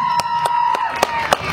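A stadium crowd at a mimicry performance at Vellore Nethaji Stadium cheers and claps in short bursts over a steady hum of voices. A few sharp peaks of louder cheering stand out.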